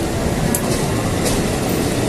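A Japanese-made commuter train on the Bogor red line running past, a steady broadband rumble with faint rail clatter, fairly loud and without speech.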